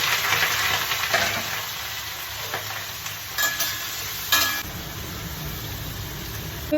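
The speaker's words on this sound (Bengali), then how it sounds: "তেলে এবার আলু পটল দিয়ে দিলাম একসঙ্গে" Steady oil sizzle of potatoes and pointed gourd frying, with a few stirring scrapes and clinks of a utensil against the pan.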